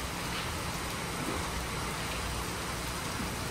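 Heavy rain pours down steadily in a dense, unbroken hiss that fills the space from start to finish, with no voices.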